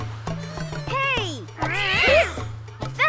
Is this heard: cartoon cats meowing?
yes